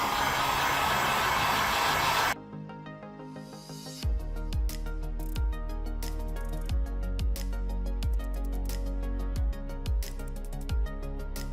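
A heat gun or hair-dryer-style heater blows steadily at close range to warm the back cover of a Samsung Galaxy S23 Ultra, then stops, and a series of light handling clicks and taps follows.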